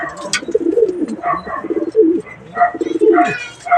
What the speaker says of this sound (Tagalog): yung bagong baba natin na young bird nakikipagbardakulan na